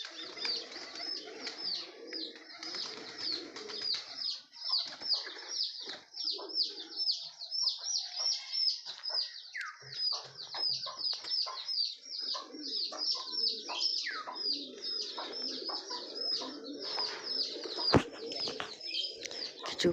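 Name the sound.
pigeons cooing in a loft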